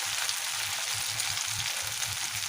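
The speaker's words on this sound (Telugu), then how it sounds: "మంచిగా వేయించాలి" Okra, lady finger, frying in oil with a steady bright sizzle, continuous and close, punctuated by soft rhythmic stirring thuds.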